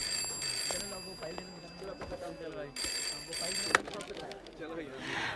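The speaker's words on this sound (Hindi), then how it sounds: "फोन बज रहा है तुम्हारा" An office telephone at a bank rings in two long bursts separated by a pause, its bright trilling bell heard under nearby voices talking.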